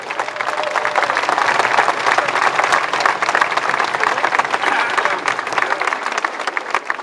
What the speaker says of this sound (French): je vous demande d'applaudir Pierre Aubanel